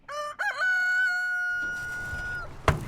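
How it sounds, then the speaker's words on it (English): A rooster crows on an organic farm, one long drawn-out cock-a-doodle-doo rising loud and close before fading, followed by a brief sharp knock and faint farmyard background. "We have chickens that produce all of our own eggs."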